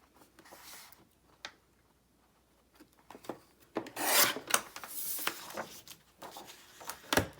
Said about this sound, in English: this is actually 1 inch longer than we need, so we're going to cut off